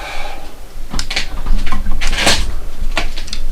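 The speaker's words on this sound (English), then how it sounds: "That's our sliding door to separate if you wanted to separate this whole room" A household sliding door is rolled along its track in a room under renovation, giving a series of close rattling knocks and scraping bumps over a few seconds.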